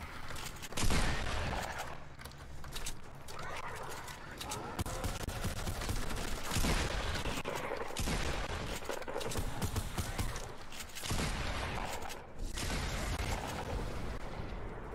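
Minigun and other heavy weapons fire in Fortnite's Team Terror zombie mode, coming in loud sustained bursts separated by short breaks, with a voice talking over parts of it.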